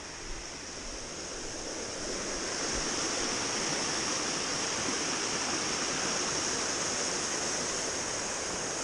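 Clear stream water flowing under a small bridge in a mountain area, a steady, full rushing hiss that stays constant and fairly close throughout with no voices.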